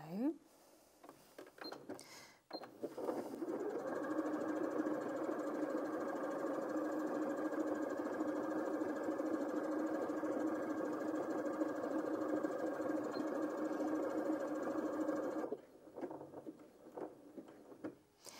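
A Janome M200QDC sewing machine runs a decorative stitch pattern, a steady close mechanical whir with rhythmic needle thumping for about twelve seconds before stopping, with faint clicks before and after.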